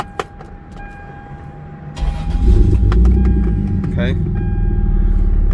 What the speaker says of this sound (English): This did sound awesome. It has a aftermarket exhaust.